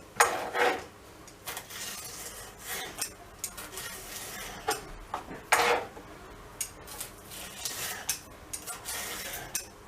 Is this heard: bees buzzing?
no